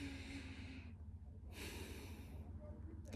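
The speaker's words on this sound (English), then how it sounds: "You must actually learn to use breathing exercises." A deep breathing exercise at a young men's empowerment forum: long, loud, close breaths rushing in and out through a microphone over a steady low background hum.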